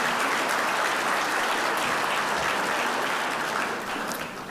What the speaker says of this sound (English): go ahead and clap for yourselves.